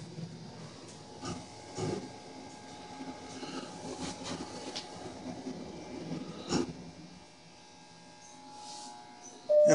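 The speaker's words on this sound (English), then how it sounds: "This is a beautiful old elevator, totally unmodded except for the" An old, unmodified Otis traction elevator runs in a hospital parking garage, giving a faint, continuous mechanical hum with occasional soft clunks and a louder bump at the very end.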